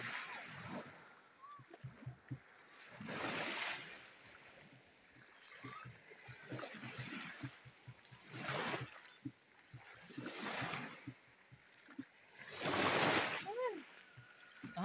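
Waves wash and break against a seaside shore in repeated surges a few seconds apart, with water splashing at moderate distance, while a person talks intermittently in between.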